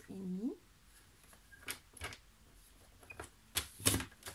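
Scissors snip paper for a small handmade mini album, a few sharp, close cuts spaced irregularly after a short voice at the start, in a quiet room.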